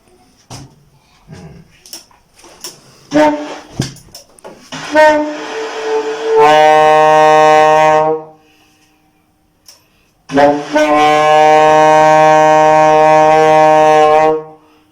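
After a few soft clicks and breaths, a saxophone sounds a long steady note, pauses briefly, then holds the same note again.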